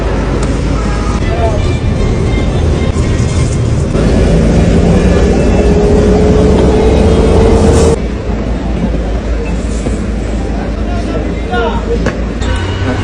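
Riding a jeepney through the Philippines toward Quiapo during Holy Week, a loud, steady engine drone and road rumble fill the cabin close up, with a brief shift in engine pitch partway through and people talking under the noise.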